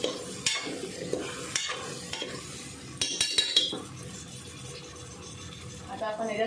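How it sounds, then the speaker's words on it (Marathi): Cowpeas and potato masala being sautéed in a pan with a spoon, giving scraping stirs, soft sizzling and a few metal clinks against the pan, close and moderately loud with brief pauses. "ते सुद्धा आपण परतून घेऊया"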